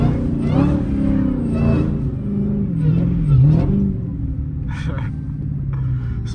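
A Dodge Hellcat's engine rumbles and revs while drifting through a blizzard, a deep, steady growl with rising and falling pitch swells, heard up close from inside with a constant roar underneath.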